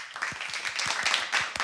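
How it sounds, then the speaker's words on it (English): A studio audience applauding a guest, Cassandra More, on an interview show: a short run of evenly spaced, crisp hand claps from a small group, close and moderately loud. "Y'all, give a big round of applause for Miss Cassandra More."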